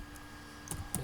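Several faint, quick keystrokes on a computer keyboard while a web link is typed, a few scattered soft clicks over quiet room noise.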